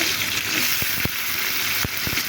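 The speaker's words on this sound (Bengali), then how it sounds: "এখানে আমার তেলটা গরম হয়ে গেছে পেঁয়াজটা দিয়ে দেবো কাঁচামরিচ দিয়ে দেবো কত টমেটোটাও দিয়ে দেবো" Onion, green chili and tomato sizzle in hot oil, a loud, steady crackling hiss that runs throughout, broken by a few soft knocks of a utensil against the pan, with no talking.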